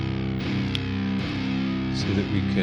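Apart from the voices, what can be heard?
distorted electric guitar chug through free VST amp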